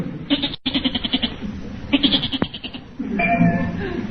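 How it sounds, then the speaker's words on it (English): A goat bleats inside a residential garage, with repeated wavering cries in short bursts across the clip and a voice sounding alongside near the end. "Holy smokes, a goat. Gillis has got a goat in there."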